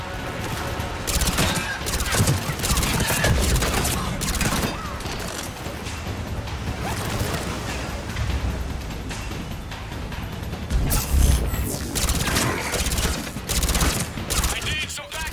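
Sustained firefight gunfire from the video game Mass Effect 3, with dense rapid bursts of automatic fire and sharp shots continuing throughout, loud and close, with occasional heavier impacts.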